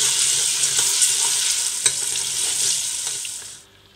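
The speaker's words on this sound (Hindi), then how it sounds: "यहाँ लहसुन अदरक जो फ्राई हो रहा है" Garlic and ginger paste fries with garam masala in hot oil, a loud steady hiss and sizzle with occasional stirring clicks, close up and without talk, cutting off near the end.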